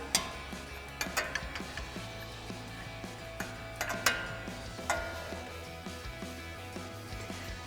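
A 22 mm wrench tightens a nut on a Jeep Wrangler JK steering rod end, giving a run of quick, close ratcheting clicks in an uneven rhythm with a few sharper metallic ticks.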